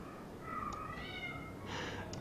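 Two house cats meowing, a pair of short, close, fairly soft meows about a second apart, with quiet room tone between them.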